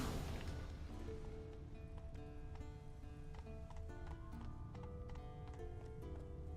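Steady clip-clop of a horse's hooves at a walking pace in the video game The Witcher 3: Wild Hunt, beneath a bed of music, continuous and moderately faint.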